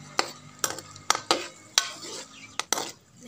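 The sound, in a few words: onions being stirred and browned in pan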